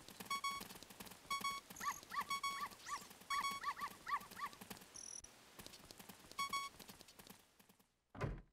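Dog in the Ocarina of Time video game, making a series of short, repeated game-style bark or yelp sounds among clip-clop-like steps, ending with a brief burst, moderately loud with no speech.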